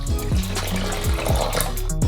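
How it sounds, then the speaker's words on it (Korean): Water pours steadily into a pot of sugar, a continuous splashing flow with rising gurgling tones as the level climbs, close and fairly loud. "물 200ml를 부어 넣으세요."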